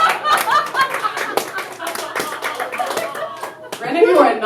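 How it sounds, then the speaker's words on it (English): An audience at a stand-up comedy club show clapping in sharp, scattered bursts, mixed with talking and crowd noise, fairly close and loud, swelling again toward the end. "For any of you who are not applauding"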